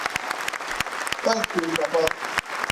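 Crowd applause at a tribute event for Pa Ayo Adebanjo, a steady patter of clapping with a voice speaking briefly over it partway through.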